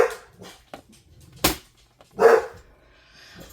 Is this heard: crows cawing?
no